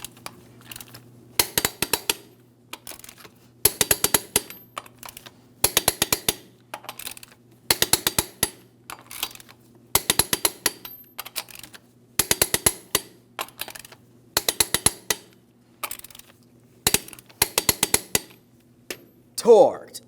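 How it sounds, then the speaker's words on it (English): A torque wrench tightens the lug nuts on a 2007-2014 GMC Sierra 2500 HD wheel, sharp metallic clicking bursts repeated in regular groups with short pauses over a faint hum. "Let's go ahead and torque each of these lug nuts to 140 foot-pounds in a crisscross manner"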